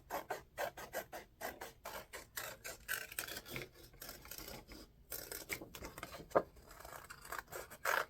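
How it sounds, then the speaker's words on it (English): Scissors snipping through magazine paper to cut a heart shape, a rapid series of close, crisp cuts with short pauses and light paper rustling between strokes. "I'm going to go ahead and cut out my heart"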